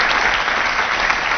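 Dense, loud audience applause, a continuous wall of many hands clapping with no break and no voices on top.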